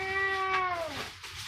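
A cat in Manila gives a single clear, drawn-out meow that bends downward at the end, fairly faint over low background noise.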